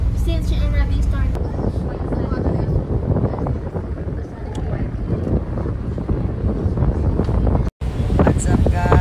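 Strong wind buffets the microphone at a turquoise-water shoreline, a continuous loud roar with low rumble throughout, briefly cutting out near the end, with voices faintly present.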